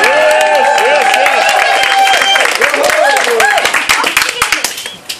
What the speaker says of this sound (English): show by a round of applause